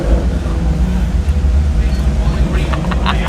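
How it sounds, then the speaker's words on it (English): A Maserati Levante Trofeo SUV with a naturally aspirated V8 climbs the Festival of Speed hill: a loud, steady, deep engine roar with wind buffeting, and no pause or break. "this thing is rocking a naturally aspirated V8 pushing out 460 horsepower"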